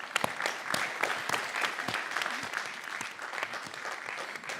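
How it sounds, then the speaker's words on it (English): An audience at a Morton College community event in Cicero applauds loudly, producing many sharp, distinct claps in an even, sustained burst close by. "a big round of applause to, first of all, the president of the school, Dr. Stan Fields"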